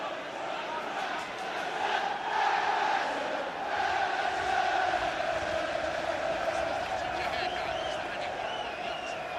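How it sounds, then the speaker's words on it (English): Football fans at an Everton FA Cup match against Reading roar and chant as a dense, sustained crowd swell, rising and falling in waves, with a commentator speaking over the noise. "the crowd's trying to get Everton going"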